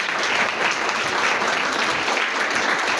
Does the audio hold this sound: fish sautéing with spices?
no